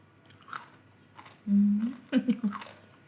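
Someone bites and chews a bitter herbal medicine, taken on an empty stomach for bloating. Close, wet chewing and crunching arrives in a few bursts, with a brief low voiced sound between them.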